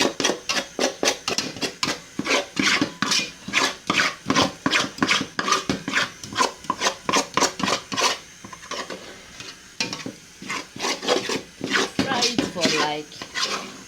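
A metal spoon rasps and scrapes steadily around a pot of okra and egusi soup, a brisk repeated stirring rhythm close up, with brief speech over it.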